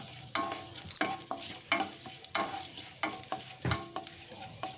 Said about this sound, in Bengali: লঙ্কা পাঁচ ফোড়নটাকে একটু নেড়ে ছেড়ে ভেজে নিচ্ছি